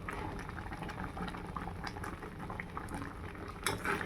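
Oats bubble at a steady boil in a pot, a dense, continuous watery churning close by with scattered small pops, no voices over it.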